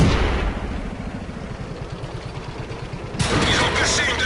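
Artillery fire in the World of Tanks video game, heard as a dense run of rapid low thumps and crackling bursts, ending in a sudden louder, broader blast with speech faintly mixed in.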